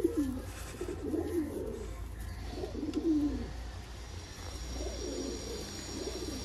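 Pigeons offered for sale coo repeatedly in soft, throaty phrases, several rolling calls close by over steady low background noise.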